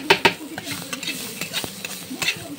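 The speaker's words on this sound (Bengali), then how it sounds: "সামান্য পরিমাণে ভাজা হবে কিন্তু এটা।" Onions and chilies fry lightly in a pan, giving a soft, low sizzle broken by scattered clicks and scrapes of stirring, fairly quiet throughout.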